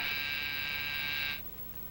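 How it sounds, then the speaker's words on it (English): A harsh electric buzzer sounds steadily for about a second and a half, then cuts off abruptly, leaving a faint hum. "Why the buzzer?"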